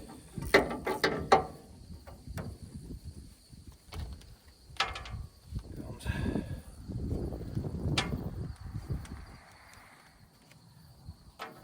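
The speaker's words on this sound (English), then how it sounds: "I need some of the ratchet" A ratchet wrench with a short socket works a bolt on a 1969 C30 truck, producing bursts of close, rapid clicking and metallic clatter with pauses between them, mixed with shifting and handling noises and no speech.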